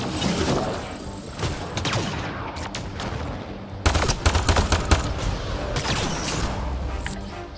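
Gunfire crackles in the sci-fi shooter Mass Effect Andromeda, with bursts of rapid shots and sharp single cracks over a busy battle mix, loud and close, occasionally rising into dense volleys.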